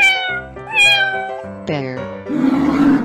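A cartoon-style cat meows in a run of animal sounds, loud and close, a few drawn-out tonal calls in quick succession, followed by a burst of noisy rumble.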